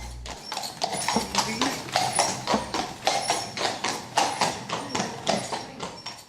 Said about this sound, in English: A horse-drawn carriage is the perfect fit for a marriage proposal or a wedding.